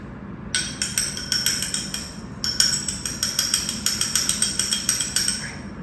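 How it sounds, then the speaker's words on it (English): A fork beats an egg in a bowl, a quick run of rhythmic metallic clinks that pauses briefly and then resumes at a steady pace, close and clear. "crack it into a separate bowl and give it a little beat with the fork"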